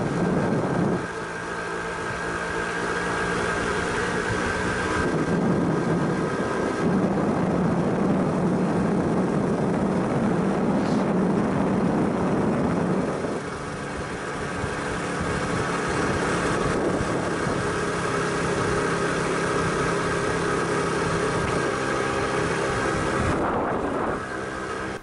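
A Hercules Prima GT moped engine drones steadily while riding along a country road, its pitch shifting as it changes speed, with wind buffeting the microphone throughout.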